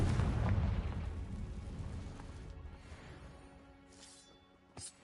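A Confringo fire spell blasts in the Hogwarts Legacy game, a loud booming explosion that rumbles and slowly fades over several seconds, followed near the end by a brief sharp crack.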